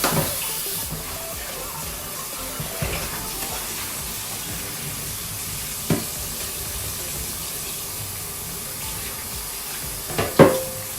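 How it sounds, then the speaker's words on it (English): A bowl used for seasoning shrimp rinsed under a running kitchen tap, a steady close hiss of flowing water with a few clunks of the bowl against the sink, no talk. "I'm gonna just rinse this bowl"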